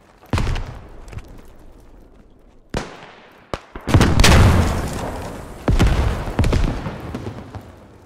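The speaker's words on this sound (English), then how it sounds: "Grenade, grenade." Sharp blasts and booms from WW1 trench combat in the video game Beyond The Wire, with a grenade explosion among them, arriving as several separate loud cracks with a heavy, sustained burst in the middle.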